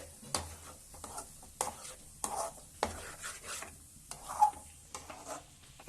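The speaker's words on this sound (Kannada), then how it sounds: "ಈ ತರ ಇದರ ತಳ ಹತ್ತದಂಗೆ ನೀಟಾಗಿ ಈ ತರ ಫ್ರೈ ಮಾಡ್ಕೋಬೇಕು" Egg and goat brain fry, village style, being stirred in a pan: repeated scraping and clinking of a spatula against the metal over a soft sizzle, with irregular louder strokes close by and no talk.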